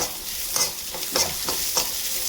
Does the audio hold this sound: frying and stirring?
yes